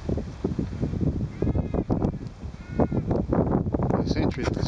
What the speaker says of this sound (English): Couple of feral goats.